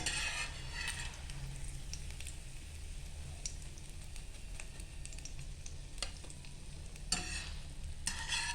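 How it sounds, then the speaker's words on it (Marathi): Egg-coated bread fries in a pan with a steady, close sizzle, broken by occasional sharp clicks and scrapes of a utensil. "जे ब्रेड आहेत त्याचे आपण सेम असे फ्राय करून घेऊया"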